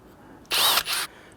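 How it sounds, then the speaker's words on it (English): A power drill bores out the broken core of a front ABS wheel speed sensor in the hub of a 2005-2021 Nissan Frontier, giving a loud, close half-second whine with a brief dip near its end. "I'll drill out the core and then I'll clean up around the edges"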